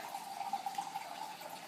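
Organic or purified water poured from a container into a stir-fry of veggies for kitchari detox soup, a steady soft trickle and splash lasting under two seconds with no talking.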